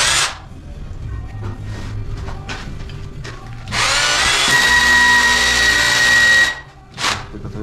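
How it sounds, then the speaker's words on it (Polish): A power drill bores a hole through a brick wall during bricklaying work: short intermittent bursts first, then a loud, steady, high-pitched whine for about three seconds before it stops, with one more brief burst after. "tutaj wiercę i potem przewiercę tak samo tam, żeby połączyć po prostu jedno z drugim"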